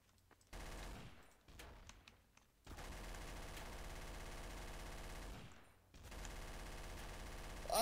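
Dense sustained automatic gunfire in the Trouble in Terrorist Town game, loud and continuous in long bursts with brief pauses, no talk over it.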